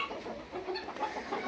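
Brahma chickens clucking on a farm, soft scattered clucks and low murmuring calls from a few birds, faint and close, with no talk.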